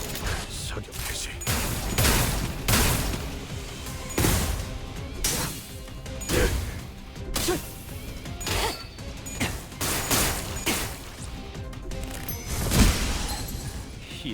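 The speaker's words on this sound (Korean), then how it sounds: "사격 개시." A gunfire volley in the video game Limbus Company comes as repeated loud cracks and crashes in an irregular barrage, layered over game music and effects for the whole stretch.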